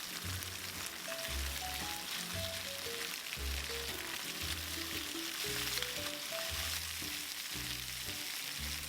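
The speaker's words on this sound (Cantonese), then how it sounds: "雞翼一面煎到金黃嘅時候，就反轉另一面，再將另一面都煎到金黃。" Chicken wings pan-frying in a hot wok, turned once to brown both sides: a steady, dense sizzle runs throughout, with soft background music notes over it.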